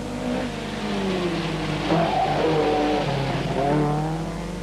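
A Talbot Sunbeam rally car on a stage of the 1979 San Remo Rally, its engine loud and close, revving up and down through gear changes as it drives past.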